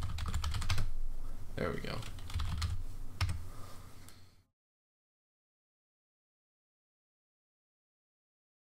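Keys clatter in quick bursts on a computer keyboard while a username is entered during a Linux Mint 17.3 install in VirtualBox, with a short spoken remark mixed in before the sound cuts to silence.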